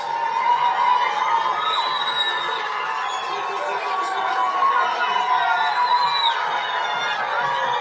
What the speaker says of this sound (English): Massive crowds, 10 deep at times in the barriers.